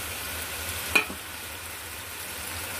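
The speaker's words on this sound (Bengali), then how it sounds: "মশলাটা ভালো করে নেড়ে নেব" Masala already fried in oil, with cashew and poppy seed paste added for pointed gourd dorma, is stirred in the pan: a steady low sizzle with one brief scrape of the spoon partway through.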